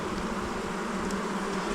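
Honey bees swarm around an opened hive while frames are worked during a brief warm spell, a dense, steady, close buzzing hum that fills the air without a break.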